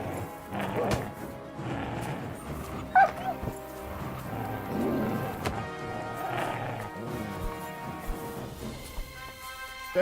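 A dog barks in Kingdom Come: Deliverance II, with a few sharp yips over a steady bed of game music and ambience, plus a brief louder crash near the middle.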